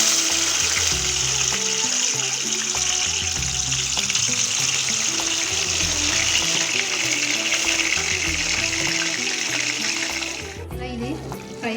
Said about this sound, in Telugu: కడాయిలో ఆయిల్ పోసుకోవాలి. 2 to 3 టీ స్పూన్స్. మనం ముందుగా ప్రిపేర్ చేసుకున్న ఆనియన్ టమాటా మిక్చర్ వేయాలి.